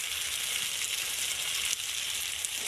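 Fish sizzling steadily in a pan with turmeric and chilli powder for a Bengali fish curry, a close, even hiss of frying oil with faint crackles throughout.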